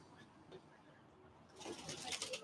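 Pigeons or doves cooing outdoors at a beach, faint at first and then swelling into a louder, busier burst of bird calls in the second half, with no speech.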